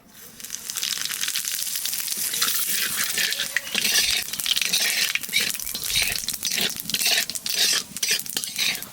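Fish pieces with cumin seeds and bay leaves fry in hot oil, a loud continuous crackling sizzle broken by stirring scrapes and clatter against the pan.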